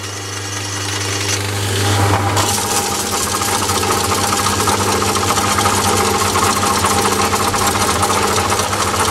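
A metal lathe runs up to its top speed of 858 RPM, a loud steady mechanical whir with a low motor hum and dense rattling overtones. The pitch and level climb over the first two seconds, then hold constant.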